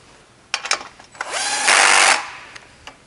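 A power drill drives screws on a conveyor assembly: a few clicks and short blips, then one loud, close whir ramping up and holding for about a second before stopping.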